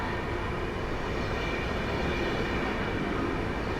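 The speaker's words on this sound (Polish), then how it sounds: "Równocześnie ruszył pociąg SKM Warszawa i to Impuls Europejczyk na linii S3." An SKM Warszawa Impuls electric multiple unit pulls away at Warszawa Zachodnia station with a steady, even rumble of running gear and motors, close and fairly loud, with no voices.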